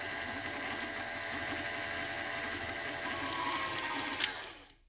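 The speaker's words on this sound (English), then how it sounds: "I'm going to beat my butter and sugar until it's nice and smooth and a little bit fluffy" Electric mixer beating butter and icing sugar for a pop tart dough, a steady close motor whir running continuously with a slight rise in intensity before cutting off at the end.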